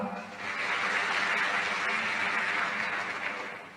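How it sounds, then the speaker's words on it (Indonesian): Church congregation clapping during a thanksgiving service sermon, a sustained even wash of applause at moderate volume. "Tepuk tangan."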